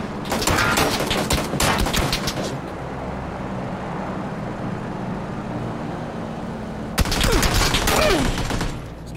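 Bursts of rapid gunfire in PUBG on the Miramar map crackle at the start and again near the end, with a continuous mechanical rumble filling the gap between them.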